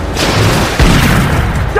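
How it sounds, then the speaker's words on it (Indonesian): A gunshot in an action film, a loud dense burst filling the whole short moment, with a sharper hit partway through and no speech over it. "Sterling pun langsung menembak bahu Jack dan membuatnya terjatuh ke dalam air."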